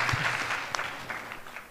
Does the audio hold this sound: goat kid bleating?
no